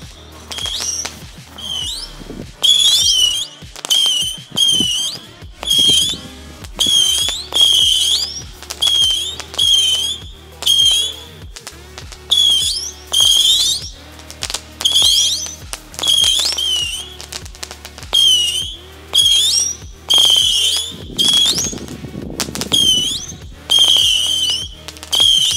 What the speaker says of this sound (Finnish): Tää on yksi mun hauskimmista, tai mun mielestä hauskimmista raketeista, mutta tää on myös yksi vaarallisimmista.